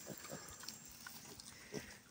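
Short grunting calls from a pet wild boar on a small farm, several brief bursts spaced across the moment, faint and close-miked over a hissy background, with no talk over them.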